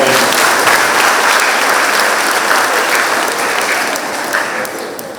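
A congregation applauding inside St. Matthias Church in Ashok Nagar during a confirmation Mass, a sustained burst of many hands clapping for about five seconds, close and full before tapering slightly, with no voices over it.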